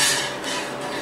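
A pot of milk heating on the stove while it is stirred, with a short scraping rub of utensil against metal over a soft steady hiss.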